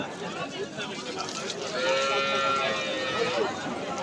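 At a village cattle market, Chowbaria haat in Manda, Naogaon, a calf lets out one drawn-out moo midway through, standing out over a low murmur of the surrounding crowd.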